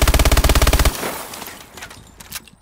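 An MP11 submachine gun in Call of Duty Advanced Warfare empties a magazine in a rapid, evenly spaced burst of about a dozen loud shots. The burst cuts off abruptly, and faint game noise and a few fainter distant shots follow.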